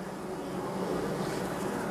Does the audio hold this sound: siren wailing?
no